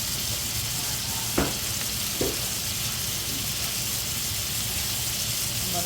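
Lamb chops frying in a pan, a steady broadband sizzle with a couple of brief clicks or taps as they are turned.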